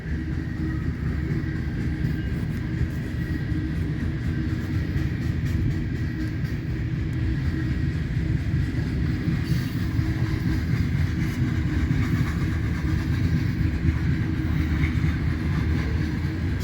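A westbound freight train of coal cars, some of them Union Pacific coal porters, rolls past nearby in a steady, continuous rumble with faint wheel clatter and no pauses.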